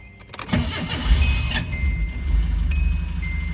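A Datsun 200SX's engine cranks with a few clicks, catches, and settles into a steady low idle nearby.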